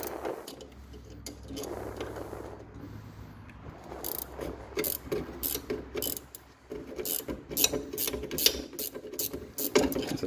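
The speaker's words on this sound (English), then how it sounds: "the ratchet spanner." A ratchet spanner clicks in quick, irregular bursts of sharp metallic ticks while adjusting the handbrake cable on a Triumph Spitfire, close up with mechanical rattles between strokes.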